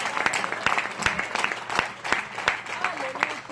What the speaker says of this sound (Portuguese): Nós vamos aplaudir agora.